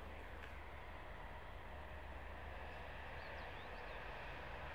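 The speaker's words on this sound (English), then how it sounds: "And train is coming." A short Finnish passenger train rolls past as a steady, broadband rumble with a low drone, continuous and fairly faint, and no voices on top.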